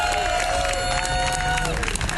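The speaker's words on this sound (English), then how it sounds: "I want to give a huge round of applause to all the organizers who put this incredible event together" A crowd at an outdoor political rally in Washington, DC applauds and cheers in a short, dense burst, with shouted whoops riding over the clapping.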